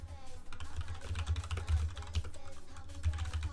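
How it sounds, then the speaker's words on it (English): Rapid typing on a computer keyboard sits very close to the microphone, loud and continuous, with a dense clatter of keystrokes and a low rumble underneath. "you guys probably hate my keyboard when I type"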